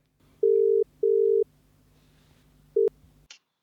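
Tones of a telephone on an outgoing call: two long steady beeps, a pause, then a short third beep, loud and clear over near silence.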